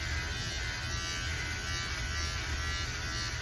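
Conair electric hair clippers trimming, a steady close buzz that holds at an even level throughout with no talk.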